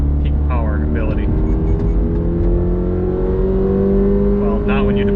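A 2022 Subaru BRZ engine drones and rises steadily in pitch under acceleration, loud and continuous from inside the car, with a person talking over it.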